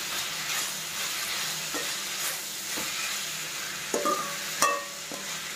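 Ridge gourd sautés in a pan with coriander and tamarind, a soft, steady sizzle broken by several sharp spatula scrapes and clinks against the pan, heard close with no talking.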